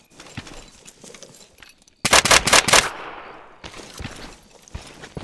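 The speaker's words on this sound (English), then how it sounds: "Someone's shooting at me?" Rapid burst of video game gunfire, a run of sharp loud shots clustered together, sits between quieter stretches of softer in-game noise.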